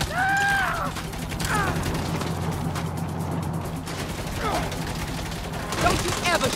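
Sustained gunfire from the video game Saints Row rattles steadily underneath the action, with mechanical clatter and sharp accents. Voices speak over it at several points.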